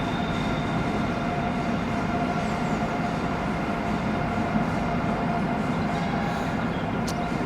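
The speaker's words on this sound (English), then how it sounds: "the railway line runs directly next to the church, and I suppose you could probably hear the trains now" A train rumbles past on the railway line beside St Pancras Old Church in London, continuously at steady loudness, a dense rolling roar with faint rail clatter and no voices.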